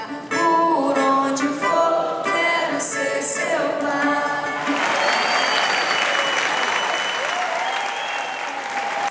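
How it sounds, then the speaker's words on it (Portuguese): A standing ovation from the audience for a cavaquinho musician, with the last notes of music giving way to loud, dense, continuous clapping that carries to the end. "aplaudido de pé pelo público"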